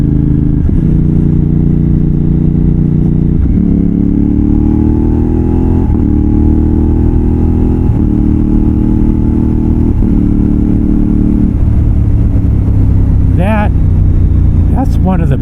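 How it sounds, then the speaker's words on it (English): An X-Cape 1200 adventure motorcycle downshifts through its quick shifter, the engine note stepping in a series of distinct drops every couple of seconds, loud and close, with a rider speaking over it. "Let's try some downshifts."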